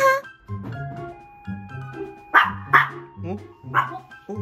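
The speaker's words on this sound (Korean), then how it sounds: "배달 왔는데 짖는다" A pet dog indoors barks at a delivery arrival, giving a few sharp, close barks scattered among talk and electronic tones.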